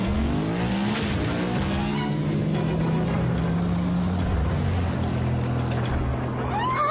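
A cartoon vehicle transforming into a motorcycle lets out a loud, continuous engine roar with rising and falling revs, steady throughout, mixed with whooshing, skidding action noise.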